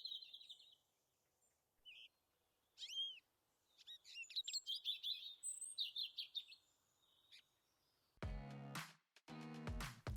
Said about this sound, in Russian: Просто послушайте это пение птиц.